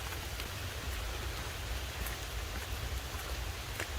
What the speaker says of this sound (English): Not worth it with this rain and the mosquitoes.